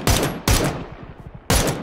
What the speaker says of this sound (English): Oh, he's getting shot from another guy.